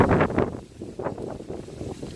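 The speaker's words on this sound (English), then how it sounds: "Ooh, it's windy." Gusty wind buffets the microphone in low rumbling bursts, rising and falling with no voices.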